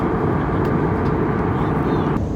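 Inside an airplane cabin in flight, a steady, loud broadband engine and air roar fills the space without pause, with faint voices barely audible beneath it.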